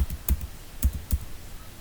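Keys tapped on a computer keyboard in a short burst of a few distinct, close clicks with brief pauses between them, no talking.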